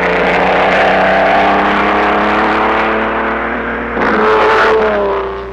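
A vintage Grand Prix race car roars along a racing circuit, its engine note sustained and loud with shifting pitch, swelling again briefly as it drives past.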